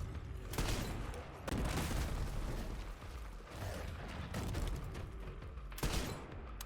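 Rapid bursts of gunfire aimed at an enemy's head in Resident Evil Requiem, dense overlapping booming shots repeating across the span, loud and close with no talk.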